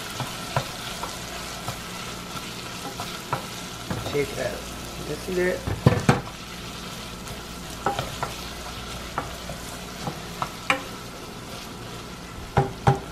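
Drunken pork loin cooked in beer in a long-used pot, with a continuous close sizzle broken by scattered clinks and scrapes of stirring, while a person talks briefly.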